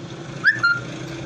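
A multimeter continuity buzzer on a shorted board from a TCL 40-inch LED TV gives two short, high beeps in quick succession over a low steady hum.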